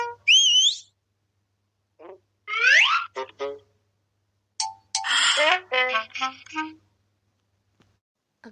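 A man whistles a cheerful, bouncy tune in short rising and falling phrases with brief pauses between bursts, clear and close, alone without talk.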